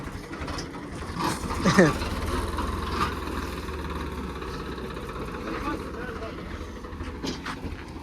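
A vehicle engine is cranked with the self-starter while in gear without the clutch pressed, then hums steadily close by, with voices talking over it.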